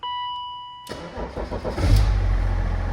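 A BMW M57 diesel car engine cranks and catches after a brief quiet moment, surging up and then settling into a loud, steady idle close by.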